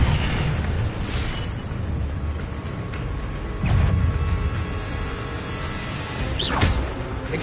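Incendio fire spells cast in Hogwarts Legacy, heard as several whooshing bursts and booming flares over a continuous rumbling combat backdrop, with the loudest blasts near the middle and end.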